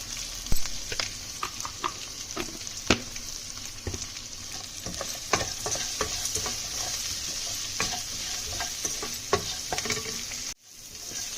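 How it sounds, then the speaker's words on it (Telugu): Chopped onions fry in a pan for sabudana khichdi, giving a steady close sizzle broken by repeated scraping stirs, with no voices over it. "ఇదిగోండి ఆనియన్ కూడా వేగిపోయింది"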